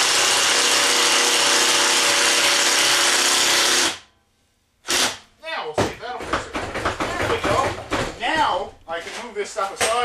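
A power drill bores steadily for about four seconds at close range, loud and constant, then stops; after a brief silence come clattering, ratcheting handling noises with a voice speaking among them.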